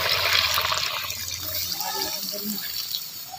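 Water is poured into a cauliflower and potato curry, splashing and hissing most strongly for the first second and a half before thinning out, with voices faintly in the background.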